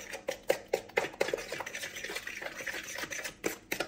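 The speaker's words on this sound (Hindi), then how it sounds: "अच्छे से इसको आपस में मिक्स कर लेंगे।" An egg is stirred into a small bowl of batter for a roast chicken marinade, giving quick repeated scraping and clinking strokes, close and fairly quiet, with no one talking.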